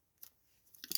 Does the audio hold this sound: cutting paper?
yes